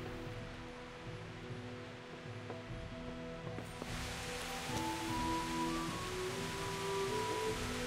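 Steady rain pours in the video game Kingdom Come: Deliverance near an untended fire, a continuous wash of soft patter that grows somewhat louder and brighter partway through, with no one speaking.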